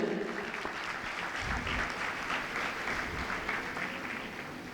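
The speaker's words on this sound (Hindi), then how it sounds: "एक बार जोरदार ताली दे दें।" Audience applause at a Hindu religious discourse during a Guru Purnima gathering, sustained even clapping from a large crowd for several seconds, filling the space at a steady level.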